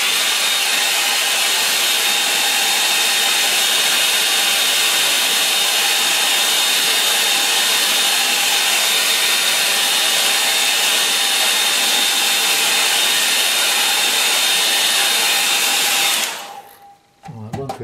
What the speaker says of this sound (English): I'm going to dry that a little bit now